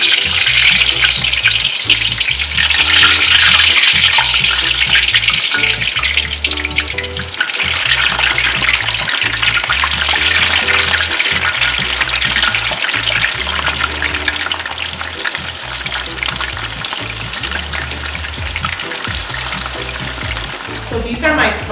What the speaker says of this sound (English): I drained them off and I'm gonna put them into my hot oil